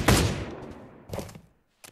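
Gunfire in the VR shooter Pavlov: a loud burst of shots at the start that trails off, a second short volley about a second later, then a brief final shot, with no talking.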